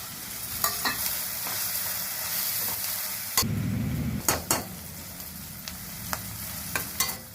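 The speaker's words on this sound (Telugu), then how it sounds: "పసుపు వేస్తున్నాను కరివేపాకు ఆకులు" Turmeric and curry leaves fry in hot oil for a prawn and okra curry, a steady close sizzle broken by a louder burst midway and several sharp spoon-against-pan stirring clicks.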